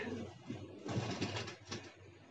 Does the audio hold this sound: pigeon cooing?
yes